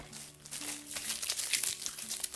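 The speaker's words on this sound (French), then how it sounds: "Moi je vais tout déballer n'importe comment parce que voilà" Received books being unwrapped from their packaging, with soft crinkling and rustling of wrap in irregular bursts, fairly quiet and close, no talk.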